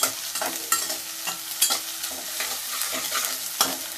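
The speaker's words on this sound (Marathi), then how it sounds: "आता टोमॅटो चांगला परतून झाला आहे फोडणीमध्ये" Tomato and vegetables sizzle and fry in hot oil tempering while a spoon stirs and scrapes the pan in repeated strokes, close and steady, with no talking.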